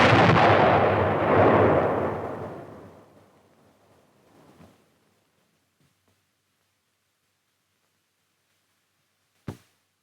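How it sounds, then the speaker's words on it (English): An explosive charge fired to destroy an earthen tunnel: a loud, deep blast that rumbles and fades over several seconds into near silence, followed later by a single sharp, short crack. "Then the charge is fired."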